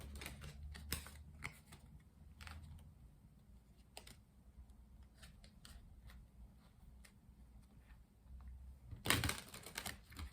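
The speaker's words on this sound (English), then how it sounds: "Let's continue by doing some shuffling so we can pull 4 tarot cards for the day." A tarot deck shuffled by hand, heard as a long run of quiet, close ticks and card snaps, with a louder riffle burst near the end.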